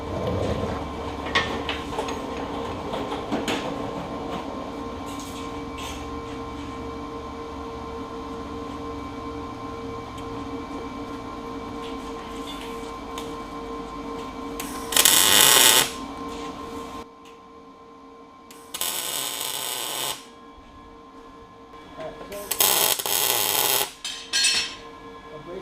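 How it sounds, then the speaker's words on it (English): Tack welding motor mount brackets onto a truck frame in a shop: short crackling bursts of the welder, three loud spells a few seconds each in the second half, with a quieter hum and workshop noise before them. "Let me get those tacked in."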